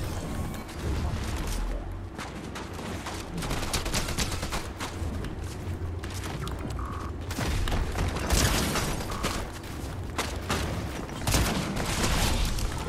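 Rapid gunfire and booming blasts from a Fortnite match at the FNCS tournament sound continuously from the game, dense and moderately loud.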